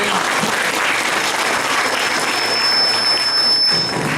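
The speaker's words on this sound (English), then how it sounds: "let's give a round of applause if you're leaving" An audience at a World War II veterans presentation applauds steadily, a dense wash of clapping that holds for several seconds before tapering off at the end.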